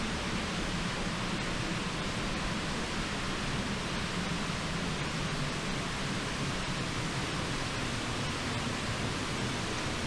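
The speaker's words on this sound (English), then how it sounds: "So here we are at the first waterfall that you get to hike behind." A waterfall on a hiking trail, heard from behind the falling water, pours as a loud, steady, dense roar that fills the whole clip without pause.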